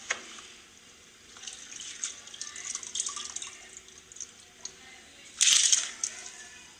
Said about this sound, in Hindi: पानी को उबाल आ चुका है, अब इसमें हम चावल डाल लेते हैं।